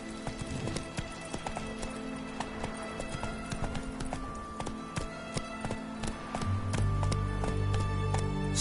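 Roach the horse galloping in Witcher 3, rapid rhythmic hoofbeats pounding steadily at close range, joined near the end by a louder low rumble.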